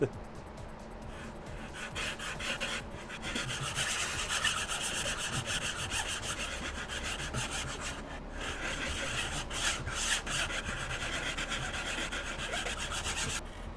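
A hand file rasps steadily against a Boba Fett vambrace prop piece, producing continuous back-and-forth scraping strokes that stay close and even in loudness throughout.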